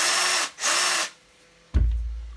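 Parkside PABH 20-Li B2 cordless hammer drill whirs in two short bursts, a high, close motor whine that stops abruptly, followed by a low thump and rumble.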